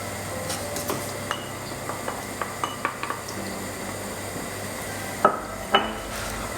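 Creme fraiche being stirred into a turkey and leek pie filling in a pan, with soft scraping and clinking of a spoon against the pot over a low background hum, plus a couple of sharper knocks near the end.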